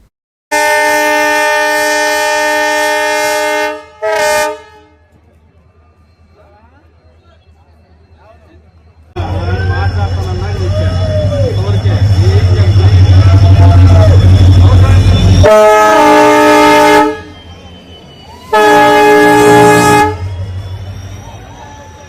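A newly introduced passenger train arriving at a station sounds loud horn blasts: a long opening toot, a short one, then more bursts later, with crowd noise and rumbling between them.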